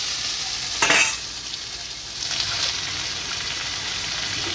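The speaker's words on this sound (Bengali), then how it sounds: "দেখলাম আলুটা প্রথম ভেজে নিয়েছি, তার মধ্যে দিয়ে দিলাম ঢেঁড়স" Okra is stirred into already fried potatoes in a hot pan for a Bengali curry, giving a steady close sizzle with a sharp scraping stir near the start and another softer stir later.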